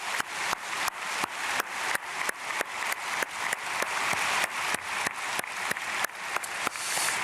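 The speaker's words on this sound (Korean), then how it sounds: "우리 박수로 축복하겠습니다." Steady congregational applause fills a church sanctuary during an early-morning prayer service, a dense, even clapping that stays loud and continuous throughout with no voices over it.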